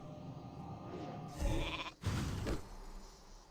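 Sheep bleating from a polymorph spell in World of Warcraft, heard as a couple of short bleats over a game soundscape with no talk.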